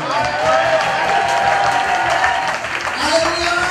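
A church congregation applauding and cheering, steady dense clapping with raised voices throughout, loud and close.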